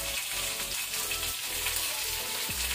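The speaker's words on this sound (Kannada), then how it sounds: "ಈಗ ಸಾಸಿವೆ ಕ್ರ್ಯಾಕಲ್ ಆದ ನಂತರ ಕರಿ ಲೀವ್ಸ್ ಒಗ್ಗರಣೆ ಸೊಪ್ಪು ಹಾಕೋಣ." Curry leaves frying in hot coconut oil with mustard seeds, a close, continuous sizzle with bursts of crackling and spitting oil, heard alone without talk.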